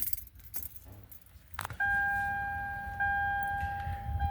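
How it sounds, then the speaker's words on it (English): A key ring jangles briefly before a key turns to the on position in the ignition of a 2005 Lexus RX, followed by a steady electronic chime tone. "We're gonna turn our key to the on position."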